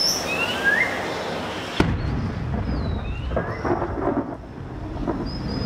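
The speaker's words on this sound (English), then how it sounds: "In December, storm clouds gather, heralding the start of the heavy rains." Thunderstorm in a tropical rainforest at the onset of the heavy rains, with a sharp thunder crack followed by deep rolling rumble and steady rain hiss, with birds calling faintly in the background.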